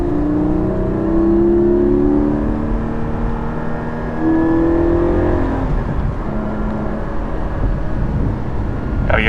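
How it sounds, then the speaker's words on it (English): Porsche 718 GT4 pulling hard through its gears, engine note climbing in long rising sweeps with brief dips at each upshift, loud and close from inside the cabin, with no talking over it. "I haven't even been in 5th gear yet. 5th, 6th."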